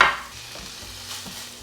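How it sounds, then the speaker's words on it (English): Slivered ham and diced green pepper frying in melted butter in a pan, a soft steady sizzle with a brief stirring scrape at the start, no talking. "Now that my butter is all melted, I have to add my ham."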